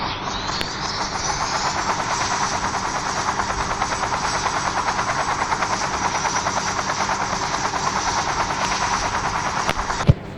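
A helicopter in a prison escape video game gives off a steady, loud, close rotor drone with fast rhythmic chopping that stays even throughout and then cuts off at the end, with no talking.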